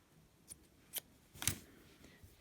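Scissors snip crochet yarn from a butterfly doily, a few quiet close cuts with the last one the loudest, in a quiet room.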